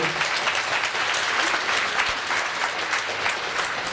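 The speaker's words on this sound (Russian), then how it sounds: "Аплодисменты." Loud, sustained applause from a theatre audience for a Khakas folk ensemble after a ballet performance, many hands clapping in a continuous roar with a slightly rhythmic swell.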